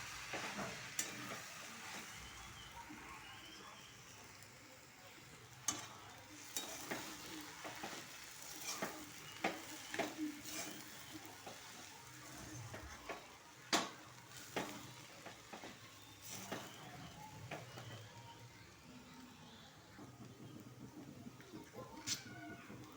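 A cooked, crumbly gram flour and soaked chana dal mixture is sautéed in a pan. A soft, continuous sizzle runs under repeated spatula scrapes and clinks, fairly quiet and close.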